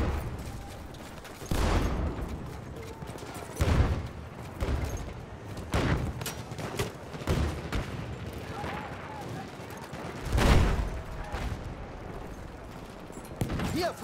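MG14/17 machine gun fire in the Battlefield 1 video game: repeated loud rattling bursts of rapid shots, each lasting under a second and spaced a few seconds apart, over a busy battlefield din with shouted voices in between.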